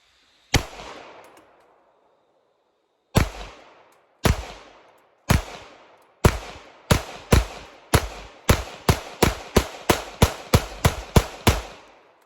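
Canik Rival pistol fired outdoors: a single loud shot, a pause, then several spaced shots building into a rapid string of about ten sharp cracks, each with a short echoing tail. No talking.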